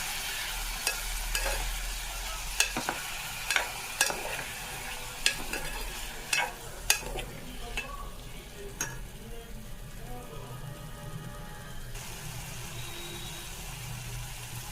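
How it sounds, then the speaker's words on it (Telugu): Tomato paste fries in a pan for a tomato pulao. A close, continuous sizzle carries sharp, irregular clicks and scrapes from stirring, which fade in the later part, with no voices. "టమాటా పేస్ట్ వేసుకొని బాగా వేగనివ్వాలి"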